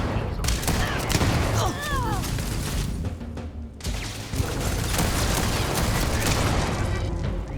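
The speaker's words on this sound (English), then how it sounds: "Now I'm blowing up their turrets." Rapid gunfire and booming blasts from turrets being destroyed in the space game Starfield, dense and continuous with sharp bursts and sweeping electronic tones throughout.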